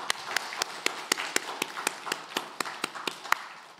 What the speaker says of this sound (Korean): 서로 격려하는 마음으로 박수 한번 하겠습니다